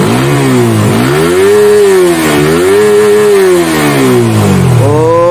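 A Suzuki GSX-R150 exhaust revs hard toward 13,000 rpm, loud and close, rising and falling in several swelling revs with a harsh, buzzing tone.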